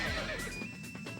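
A horse neighs in Samurai Warriors 2: Empires, a short, bright whinny with a falling pitch, close and loud over game noise.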